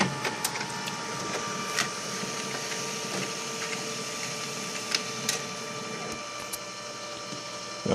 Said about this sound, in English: I'm going to print a picture, and it's going to be a nice color photo